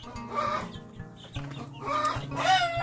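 Rhode Island Red hens in a backyard chicken coop cluck in a close, busy series of short calls and overlapping bursts, with no talk.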